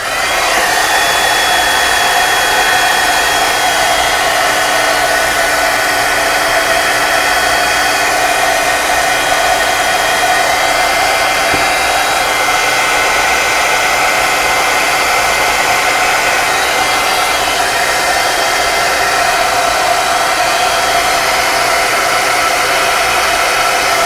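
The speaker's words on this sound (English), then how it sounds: "I'm going to give it a quick dry" A hair dryer blows on artwork in a steady, loud, continuous whoosh with a whining motor hum, running unbroken for the whole stretch.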